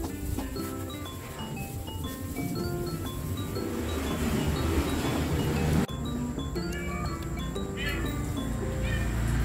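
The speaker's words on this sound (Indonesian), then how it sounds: "Itu si kucing ngaung-ngaung." A cat meowing repeatedly outdoors in a village in Malang, Indonesia, short tonal cries over a busy ambient background of birds and rustling.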